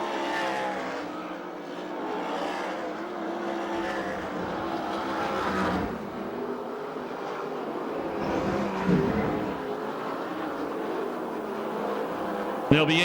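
USAC/CRA sprint cars race around the Perris track in California, a loud, continuous engine roar with shifting pitch as the cars pass, heard from close by. A voice murmurs faintly under the engine noise.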